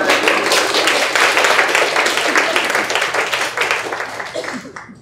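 An audience at a live talk breaks into loud, dense applause that carries on steadily for several seconds, then thins and fades out abruptly at the end.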